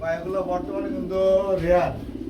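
Grizzle pigeons at a pigeon seller's coo in low, throaty, rolling calls, close and fairly loud, while people talk nearby.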